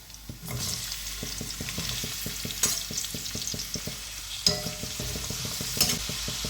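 Crushed ginger, garlic and onions sauté in hot oil for a soy chunk curry, a soft hissing sizzle beneath rapid rhythmic taps of a spoon against the pan, close and steady with a few louder knocks.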